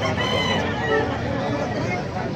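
An SBR gamefowl rooster crows loud and close, a sustained harsh call filling the whole clip, with other fowl and people talking in the background.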